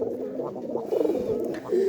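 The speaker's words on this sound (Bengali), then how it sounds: "অনেক শখের কবুতর ধরেছি" A pigeon coos steadily close by in a low, warbling run of calls that swell slightly toward the end, with no talking over it.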